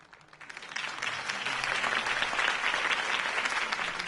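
A crowd at a political campaign rally for Harvey Dent in a Batman video game applauds, the clapping swelling from quiet into a steady, broad wash that holds to the end.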